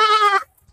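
A goat at a breeding goat farm gives one short, loud, close bleat, a quavering nasal cry that cuts off abruptly into silence.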